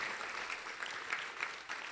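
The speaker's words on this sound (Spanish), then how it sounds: "Vamos a brindarle un fuerte aplauso a los que nos están viendo por las diferentes plataformas" Congregation clapping during a Christian sermon, a brief burst of moderate, slightly distant applause from a crowd.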